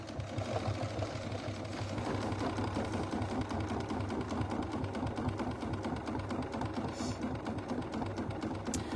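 A sewing machine runs steadily throughout, satin stitching on a mini quilt with a dense, continuous mechanical whir at an even rhythm and no talk over it.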